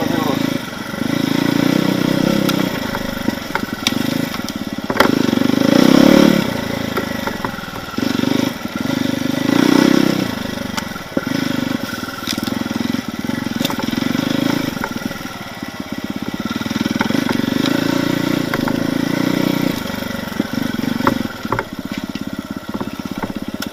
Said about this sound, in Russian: Ходьба с мотоциклом среди деревьев.